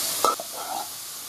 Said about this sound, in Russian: перемешиваю грибы, которые жарятся